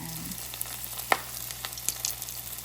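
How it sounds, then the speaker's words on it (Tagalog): Filipino lumpia spring rolls, filled with leftover fish and vegetables, frying in hot oil with a steady close sizzle and a few sharp pops and crackles scattered through it. "ilalagay na natin yung lumpia. Dapat bago natin ilagay, kailangan mainit na yung oil"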